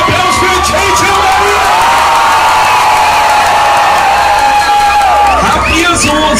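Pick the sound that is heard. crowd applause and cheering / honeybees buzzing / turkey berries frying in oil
crowd applause and cheering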